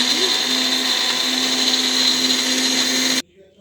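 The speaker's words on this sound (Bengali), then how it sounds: "দেখো মিক্সির জারে পিষে নিচ্ছি" Electric mixer grinder jar whirring at high speed while grinding coriander leaf chutney with water, a steady, loud, continuous motor whine that cuts off abruptly near the end, leaving faint quiet noise.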